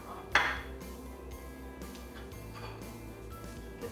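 Cutlery clinks once against a plate as it cuts into vegan potato lasagna, a single sharp metallic tap followed by faint quiet scraping, close and alone.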